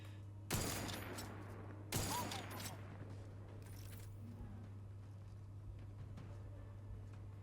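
Gunfire in the video game The Outer Worlds 2, two sharp gunshot bursts a little over a second apart, then a quiet stretch with faint background hum.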